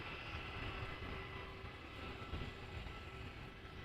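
An Airbus airliner at Amsterdam Schiphol Airport gives off a steady, distant jet engine roar, faint and continuous, with a constant broadband rumble and no talk.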